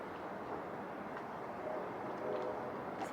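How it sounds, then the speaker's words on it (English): Trains rumble faintly in the distance as a low, steady wash of sound under quiet outdoor ambience, with a few faint tonal squeals. "I hear trains in the background."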